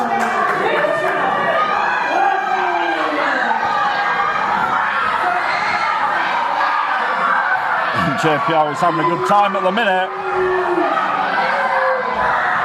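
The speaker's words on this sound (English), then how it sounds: "This crowd are really giving it to Uther on the outside." A wrestling crowd at a live UKW Showdown event keeps up a loud, continuous jeer at a wrestler outside the ring, with shouts and laughter in the mix. Commentators talk over the noise throughout.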